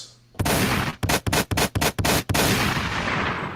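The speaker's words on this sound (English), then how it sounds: "We're throwing gunshots for the Knicks this time around." Gunshot sound effects blast in a rapid volley of loud, sharp bursts with brief gaps, followed by a sustained noisy rumble fading out.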